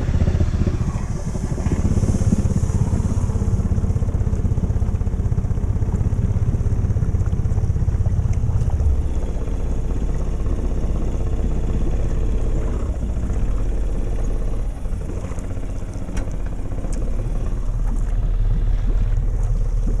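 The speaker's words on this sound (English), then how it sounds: "Let's do the old exhaust deep idle underwater test." Jeep Rubicon engine idling with its exhaust deep underwater during a snorkel pond test, a loud steady low rumble with bubbling and wind noise, continuous for the whole stretch.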